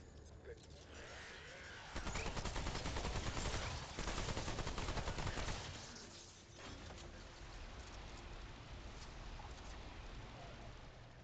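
Rapid gunfire from a video game rattles in dense bursts, loud for a few seconds, then breaks off and resumes more quietly, suggesting quick reloads between volleys, with a voice speaking over parts of it.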